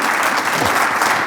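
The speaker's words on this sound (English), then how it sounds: "I think a round of applause" An audience at an evening event with Michael Ryan breaks into loud, dense, continuous applause that stays at an even level throughout the short stretch.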